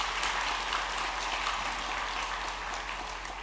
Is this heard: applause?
yes